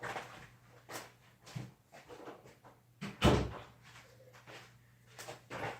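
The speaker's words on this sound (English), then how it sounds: "me close the door." An indoor door is pushed shut with one solid thump partway through, set among quieter handling clicks and rustles over a low, steady hum.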